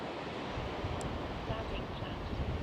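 Steady wind rushes and buffets over the microphone outdoors at a model airplane flight, a dense, rough roar that fills the whole stretch with slight gusty swells.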